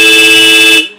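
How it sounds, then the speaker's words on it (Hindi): A Minda D95 horn fitted to a Royal Enfield Meteor 350 motorcycle gives one loud, close, steady blast of about a second, then cuts off sharply. "हॉर्न की साउंड है काफ़ी लाउड"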